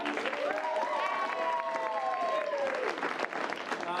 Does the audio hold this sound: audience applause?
yes